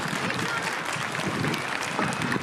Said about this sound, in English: A big round of applause for this speech.